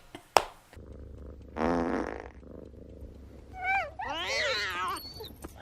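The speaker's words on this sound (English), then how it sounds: "He farts in bed." A man's fart in bed during a TV comedy scene, a short buzzy burst standing out from a muffled room with other brief noises and squeaky vocal sounds around it.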